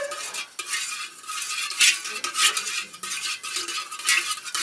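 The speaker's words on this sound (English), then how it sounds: "Now I'm stirring it in." Melted beeswax being stirred in a container, a steady scraping and swishing with a few brighter clinks of the utensil against the sides, close and continuous for several seconds with no talking.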